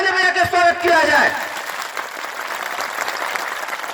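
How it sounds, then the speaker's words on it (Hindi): Applause from a rally audience at a political party gathering in Ghazipur, India, starting under a voice and then continuing as a steady, dense wash of clapping. "हम चाहेंगे बस जोरदार ताली बजा के स्वागत किया जाए"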